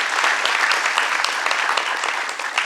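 An audience at a stage play applauds the percussionist, a dense, steady burst of many hands clapping close by that continues throughout without a break.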